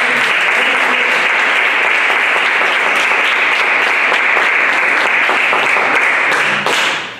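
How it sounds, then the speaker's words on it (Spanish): A crowd claps loudly and steadily, a dense continuous wash of applause that holds for several seconds before tapering slightly at the end. "Por favor, a todos un aplauso."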